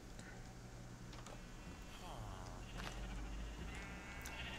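Minecraft sheep in a tundra village bleat several times in quick succession, fairly close, over a steady background hum.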